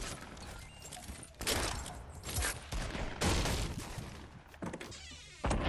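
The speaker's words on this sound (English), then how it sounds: "Getting shot at." Bursts of Fortnite gunfire in a squad match, several loud broadband volleys breaking through a busy game background at irregular intervals, with no talking.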